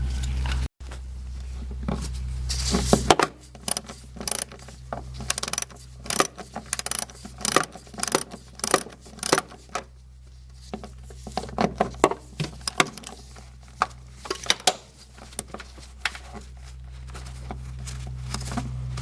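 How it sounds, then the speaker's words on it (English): Metal clinks and rattles of 10mm bolts being loosened and removed from a Mazda 626 transmission, an irregular run of short ticks and taps close by with brief pauses, no talking. "So I remove those 10mm bolts to temporarily to give you more space."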